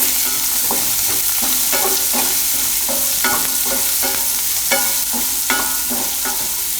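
Onion frying in a pan for dahi poha, a loud, steady sizzle with a spoon scraping and stirring in regular strokes, close and continuous.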